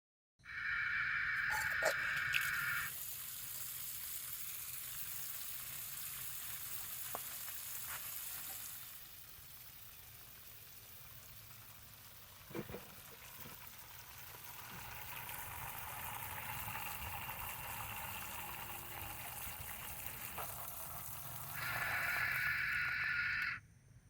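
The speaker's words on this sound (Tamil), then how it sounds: "இப்போ நான் ஓகே பட்டன் அழுத்தினோன்னா தண்ணி வரும் பாருங்கள்." Water starts flowing from an automatic drip irrigation timer in a garden, heard as a steady hiss that shifts in level, with a louder, brighter tone at the start and end and a few small clicks.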